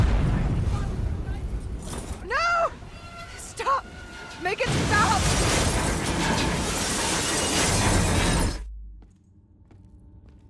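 A train explodes with loud crashing, shattering and booming debris over a long rumbling roar that cuts off abruptly, while a voice shouts in distress and pitched shrieking cries rise over the din.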